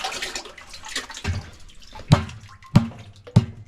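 Heating oil pumped through a nozzle set deep inside a drum, giving a steady liquid rush broken by three sharp, loud clunks near the end.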